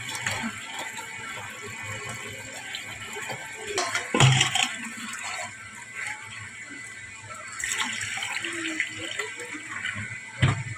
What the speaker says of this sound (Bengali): কষলে কষলে এরকম করে ধুয়ে নিতে হবে যে এইরকম সাদা সাদা জল যতক্ষণ বেরোবে ততক্ষণ বারবার দিতে হবে